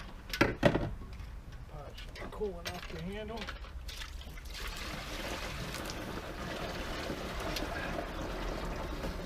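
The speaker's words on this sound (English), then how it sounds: "Alright, so I'm going to pour this in here." Distiller's beer mash, the slop for a Christmas moonshine run, is poured into a container with a steady liquid rush and trickle after a few knocks and clinks, close by, while someone speaks briefly at the start.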